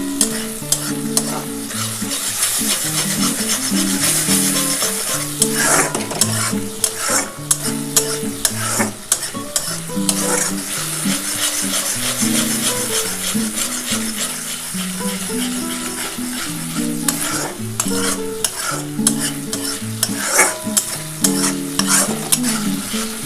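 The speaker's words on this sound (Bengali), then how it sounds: "আগে এটা ভালোভাবে একটু কষিয়ে নিই।" Masala for a dhaba-style egg curry is fried down in oil in a pan. A continuous loud sizzle is joined by rhythmic, repeated spatula scraping and stirring throughout.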